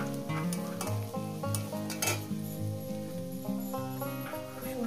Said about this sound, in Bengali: ধনে পাতাটা দিয়ে 1 মিনিটের মতন আমি নাড়াচাড়া করে নেবো